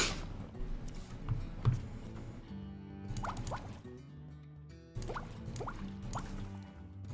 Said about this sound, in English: Hey, those are fake bubbles.